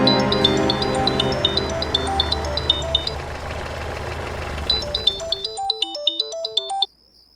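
A phone ringtone chimes in repeated bright melodic bursts over background music, then plays alone for a moment before cutting off abruptly.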